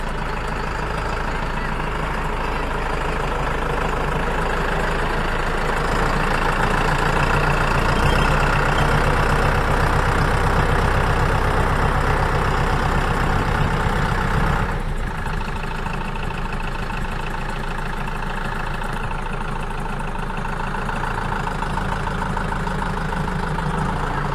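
A tractor engine idles steadily and loudly nearby, a continuous low rumble with a slight rise midway and no voices.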